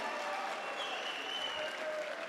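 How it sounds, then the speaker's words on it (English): Distant, faint crowd applause at a medieval MMA event honoring a fighter, a soft continuous wash of clapping with faint whistle-like tones above it. "let's give a round of applause for Nick Wong, Ordo Draconis."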